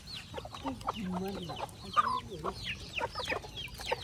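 Several chickens cluck and chatter close by in an irregular, busy stream of short calls.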